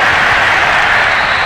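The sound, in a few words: home crowd applauding in Madden NFL 22 video game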